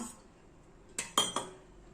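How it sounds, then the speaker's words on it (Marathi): A spoon mixes soaked, ground poha batter with besan in a bowl, giving three quick, faint metallic clinks against the bowl in otherwise quiet surroundings. "आता आपण मिक्स करून घेत आहे"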